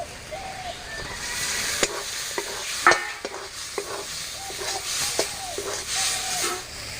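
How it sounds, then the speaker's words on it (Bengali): Prawns for a Bengali chingri malaikari go into a pan of sautéed spice paste, giving a soft ongoing sizzle broken by repeated sharp scrapes and clacks of a spoon stirring, close and moderately quiet. "আমি এবার মাছগুলো দিয়ে দেবো"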